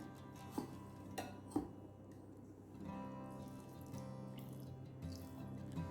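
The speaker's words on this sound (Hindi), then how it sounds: "थोड़ा सा पानी ऐड करते हैं" Water pours into a mixer jar while ragi juice is being made, a soft trickling fill with a few sharp clinks of the jar early on, quiet and close in a kitchen.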